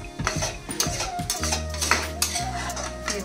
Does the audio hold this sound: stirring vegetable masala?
yes